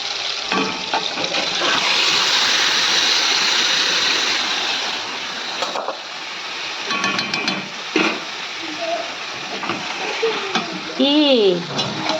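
Marinated chicken for biryani hits hot oil and fries with a loud, steady sizzle that gradually eases, followed by stirring, scraping and clinking in the pan; no talking.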